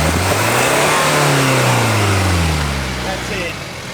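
A 4x4 engine revs hard on the Wheeny Creek off-road trail in Australia, loud and close with rising and falling pitch as it climbs, while people talk over it.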